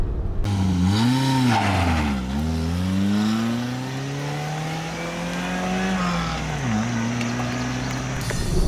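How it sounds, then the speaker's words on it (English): A Maruti Zen car engine hums steadily, its pitch sweeping down and climbing back as it downshifts, with a sharp drop near the end before settling again. "That's what the engine sounds like."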